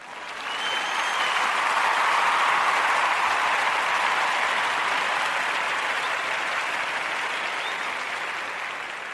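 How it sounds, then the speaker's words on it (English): A round of applause from a gathering of county leaders and transit employees honouring bus drivers and operators, a broad, even roar of clapping that swells in and holds steady, then slowly eases off. "I want to give them a round of applause for that."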